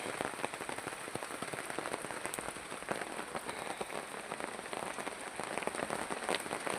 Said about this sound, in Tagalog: Habang umuulan po ngayon.